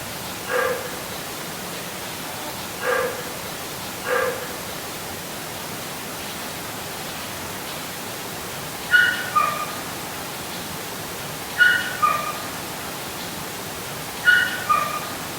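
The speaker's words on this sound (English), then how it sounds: "we've caught these barks and whimpers on audio before in cameras" Dogs belonging to a neighbour of the Sedamsville Rectory give faint, distant barks and whimpers in short pairs and small clusters, spread across a steady hiss of background noise.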